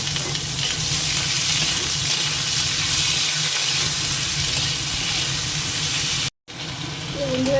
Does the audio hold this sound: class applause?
no